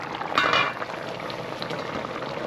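Jamaican oxtail simmering in a pot, a soft continuous bubbling with a brief louder burst of bubbling near the start, steady and close with no talking.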